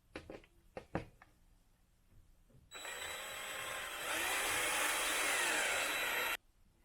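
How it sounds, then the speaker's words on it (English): A power drill bores pilot holes in MDF during a farmhouse renovation: a few sharp knocks, then a close, steady whirring drill run for about four seconds that rises in pitch before cutting off. "So I'm just going to pre-drill some holes here and get it put together"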